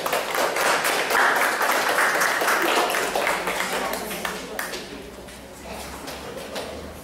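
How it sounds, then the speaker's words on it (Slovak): Applause from a classroom or quiz audience, a dense stretch of claps that is loud at first and then thins and fades toward the end, with no voice over it. "Zatleskajme."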